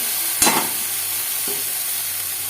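Spice masala with turmeric frying in a pan as it is stirred: a steady broad sizzle with one sharp scrape of the spoon near the start and a fainter one later, close by and with no voices.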